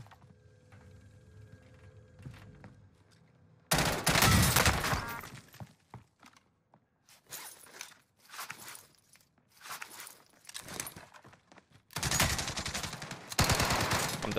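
Rapid automatic gunfire in Call of Duty: Warzone, loud bursts of shots starting after a quiet stretch, several intense volleys separated by shorter pops and gaps.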